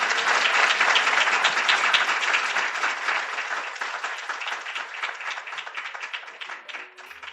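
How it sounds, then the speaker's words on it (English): Audience applause at the close of a podcast event, a thick continuous roar of many clapping hands that starts loud and gradually thins and softens toward the end. "So let's close it out and give them a round of applause."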